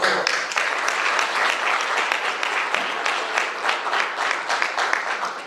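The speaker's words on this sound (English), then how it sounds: "So give yourself a round of applause." Crowd at a 2022 candidate forum giving a sustained round of applause, dense and lively clapping from many hands that stays loud and even for several seconds.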